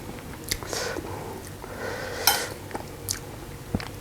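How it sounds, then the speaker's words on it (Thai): A bite of Thai fish ball salad is eaten up close, with soft crunches, chewing and faint utensil clinks against a dish, quiet and intermittent. "อันดับแรกกินเล่นก่อน หนึ่งคำ"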